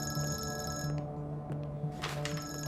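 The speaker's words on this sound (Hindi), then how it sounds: "सॉरी अंकल, दुआ का फोन है, आप लोग कंटिन्यू करें, मैं आता हूँ" A telephone rings indoors with bright electronic ring bursts, a pause, then further ringing, close and clear with no speech.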